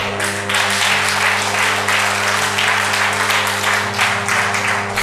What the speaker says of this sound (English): You get something now. Clap.